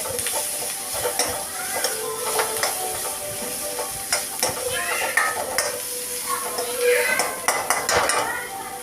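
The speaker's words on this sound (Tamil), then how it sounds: "தேவையான மிளகாய் பொடி, மஞ்சள் பொடி இதெல்லாம் போட்டு நல்லா வதக்கி விடணும்." Chili powder and turmeric sautéing in a pan for fish gravy: a steady sizzle of frying with repeated scraping and clinking of a metal spoon against the pan, close and continuous with no talk.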